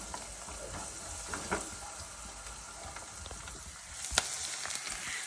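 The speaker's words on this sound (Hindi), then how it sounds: "ये अनियन हम इसमें सैलो फ्राई कर रहे हैं" Onions shallow frying in a pan give a quiet, steady sizzle with occasional light scrapes and taps of a utensil, heard close up with no talking.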